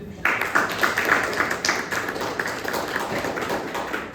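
An audience at a lecture claps together in a brisk, dense burst of sharp hand claps that begins suddenly and continues steadily, fairly close and loud, with no voices over it.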